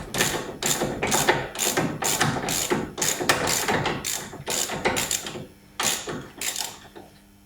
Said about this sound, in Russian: И откручиваем нижнюю гайку тяги стабилизатора.